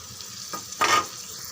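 Onions and green chilies frying in oil, a soft steady sizzle with a couple of louder hissing swells as the pan is stirred, close by and with no talking.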